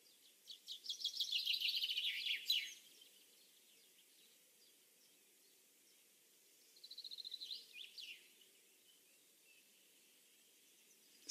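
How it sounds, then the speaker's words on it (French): Birds sing in a former quarry kept as a nature reserve, with bright chirping trills in two bursts, a louder one near the start and a shorter, fainter one later, separated by quiet background hum. "C'est le paradis des oiseaux"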